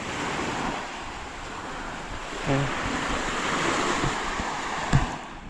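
Waves washing onto a white sand island beach: a steady broadband roar of surf with gentle swells and some wind buffeting, plus a couple of brief nearby knocks, with no talking.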